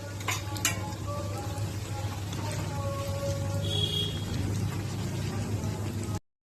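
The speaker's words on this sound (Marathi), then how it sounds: "हे देखील छान असं तळून घ्यायचंय." Coriander fritters (kothimbir vadi) frying in hot oil give a steady, close sizzle with a low hum beneath, plus a few light utensil clinks near the start and no talking.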